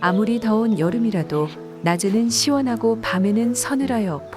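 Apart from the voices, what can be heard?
No everyday noise stands out behind the speech.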